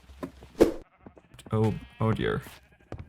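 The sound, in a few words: sheep bleating in Minecraft video game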